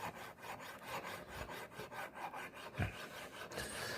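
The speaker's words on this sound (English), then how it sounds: "it's just a little junior hacksaw, and just steady away." Small junior hacksaw cutting metal by hand, close and faint rhythmic rasping strokes in a steady back-and-forth pattern, with a brief louder knock near the end.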